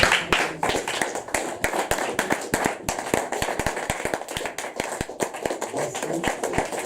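A church congregation clapping in steady rhythm to acclaim the victor, sharp, fairly close claps repeating throughout under a voice speaking.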